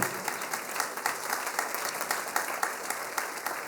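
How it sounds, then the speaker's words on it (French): An audience at an autumn concert given by the Cassel Harmony and HBM Cappelle-La-Grande bands applauds steadily, a broad wash of many hands clapping at moderate volume throughout. "On vous applaudit."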